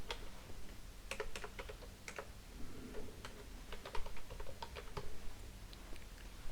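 Fingers tapping out an email address on a computer keyboard: a quick, irregular patter of light clicks in short bursts, close and fairly quiet, with no voices.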